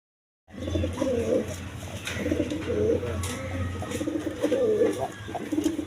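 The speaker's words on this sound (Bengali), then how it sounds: "দেখেন এইখানে একটা বোম্বাই নর কবুতর" Black-necked and Bombai pigeons at a farm cooing in repeated soft rounded phrases, several birds close by, with a steady low hum of background noise and no talking.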